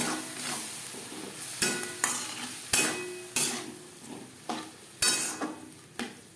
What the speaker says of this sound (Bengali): গুঁড়ো মশলা বেশ ভালো করে মিক্স করে দেব যাতে তলা লেগে না যায়